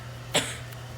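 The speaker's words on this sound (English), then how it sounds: "What do you say to a cough?" A single short cough, sharp and fairly close, against a quiet steady hum.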